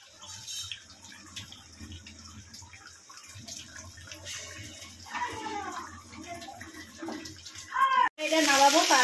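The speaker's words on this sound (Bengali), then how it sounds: "এবার আমি তার মধ্যে জল ঢেলে দেবো।" Water pours into a pan of jackfruit and prawn curry on the stove, a soft running splash under faint background noise, ending in a louder close gush with some sizzling.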